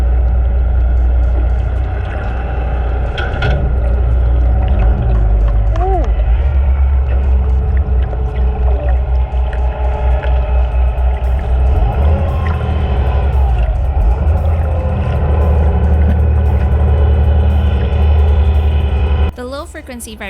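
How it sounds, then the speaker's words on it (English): A dive boat's engine starts up off Oahu, heard from underwater as a deep, loud rumble with a whining, whale-like tone, while a voice talks over it, and the engine cuts out abruptly near the end. "It's the sound of the boat engine starting up."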